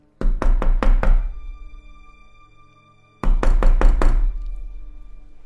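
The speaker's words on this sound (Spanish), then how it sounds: "De repente, escuché que tocaban a la puerta," Insistent knocking on a door comes in two close bursts of about five sharp raps each, separated by a short pause, loud and near with no voices.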